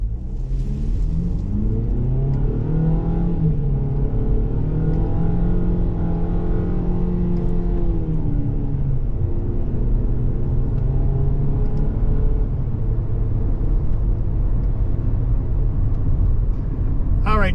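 A 2023 Ford Bronco Sport Badlands accelerates, heard from the cabin as a loud engine drone rising in pitch, dropping at a gear change, then climbing again through a second long pull.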